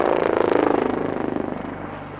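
Helicopter performing a display maneuver at the Aero India 2025 air show in Bengaluru, a loud, close rhythmic rotor chop with broad engine roar that gradually fades over a couple of seconds.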